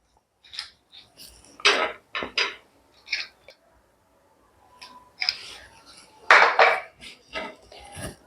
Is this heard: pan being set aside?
yes